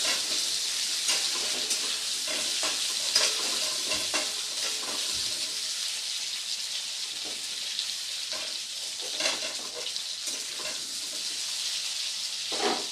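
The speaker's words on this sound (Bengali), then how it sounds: "ঝিঙেটাকে দিয়ে আবারও একবার হালকা করে একটু নেড়ে ভেজে নেব।" Ridge gourd frying in a pan while being stirred, a dense, even sizzle with soft scraping strokes running throughout, close and fairly loud.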